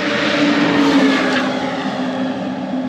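A truck engine in Brazil roars loud and close, a continuous rough mechanical drone with a slight rise and fall in intensity.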